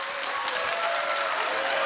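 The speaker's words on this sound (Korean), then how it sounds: "큰 박수로 맞이해주세요." Audience applause welcoming a politician onto the stage at a town talk concert, a steady wash of many hands clapping, fairly loud and continuous, with no speech over it.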